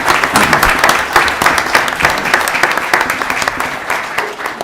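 Sustained applause fills a city inauguration ceremony for Woburn, dense steady clapping from a large seated audience that stays loud and even throughout, with a few scattered voices underneath.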